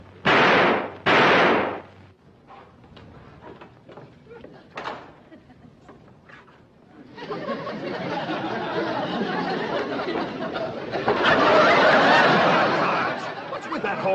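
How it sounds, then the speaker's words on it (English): Two sharp, loud gunshots ring out close by on a 1961 television film set at the start, followed by scattered clatter and then a long, dense wash of noise that builds toward the end. "Maybe those gunshots are scaring you, Mr. Briggs."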